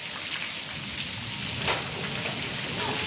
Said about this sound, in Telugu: నిజంగా ఈ అకాల వర్షాలు రైతుల పాలిట శాపాలుగా మారుతున్న సందర్భం